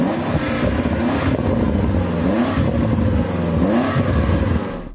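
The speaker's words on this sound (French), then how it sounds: "Andy, peux-tu faire monter le régime de ton Defender?" A Land Rover Defender engine revs loud and close, its pitch climbing and falling in several waves over a steady rumble, with no talk.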